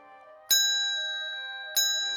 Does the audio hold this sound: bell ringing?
yes